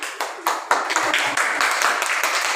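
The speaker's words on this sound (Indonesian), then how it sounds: "sekali lagi tepuk tangan untuk kelompok 4 yuk" A classroom of students clapping for a student group, a burst of sharp, quick handclaps close by that swells then settles into steady clapping, with faint voices mixed in.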